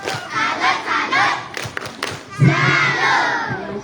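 A crowd of children shouts a rhythmic chant in unison, with loud bursts of voices and a few thumping claps in the tepuk salut clap game.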